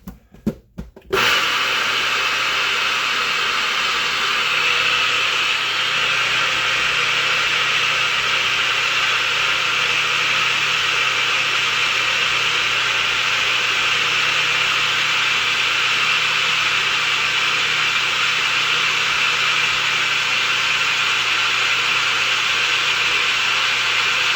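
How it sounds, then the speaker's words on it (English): An electric grinder milling grain into gluten-free flour for pizza dough starts after a brief clatter, then holds a loud, steady motor whir and grinding drone to the end, with no voices. "I'm going to put that in the grinder right quick just to show you how it goes."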